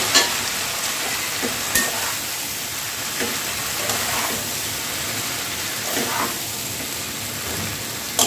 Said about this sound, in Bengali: এবার এটা দিয়ে একটু কষবো 1 মিনিট মতো।